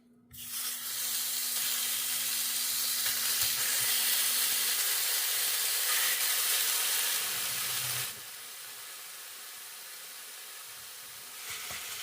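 Ground turkey Italian sausage sizzling in a preheated pan, a loud steady hiss that eases noticeably partway through and continues more softly to the end.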